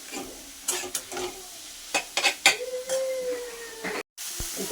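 Vegetables and spices for oats khichdi being sautéed in a pan, with close stirring scrapes and light sizzling in short bursts, a brief silent gap near the end.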